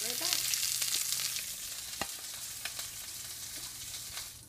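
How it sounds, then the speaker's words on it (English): Blackened tilapia fillets fry in olive oil in a pan, giving a steady close sizzle with scattered sharp pops and crackles throughout. "So our fish is cooking"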